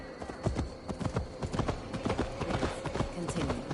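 Horse hooves clip-clop in a steady rhythmic gait through a forest in the video game Assassin's Creed Valhalla, with the hoofbeats sounding close and clear against a faint ambient backdrop.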